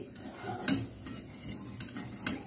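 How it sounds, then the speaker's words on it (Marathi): Chakli frying in hot oil, a soft continuous bubbling sizzle with a few light metallic clinks of a utensil against the pan, quiet and without speech. "बाकीच्या चकल्या पण तळून घेत आहे."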